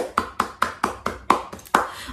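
Children at a church service clap their hands in a steady series of about eight sharp, evenly spaced claps, close and fairly loud with no talking.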